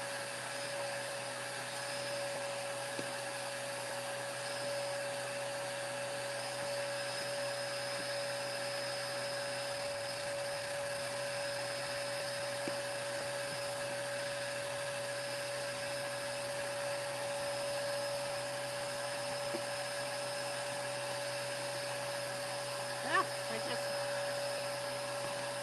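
A vacuum runs continuously with a steady, even whine and hum, sucking up material without pause, constant in level throughout and close by.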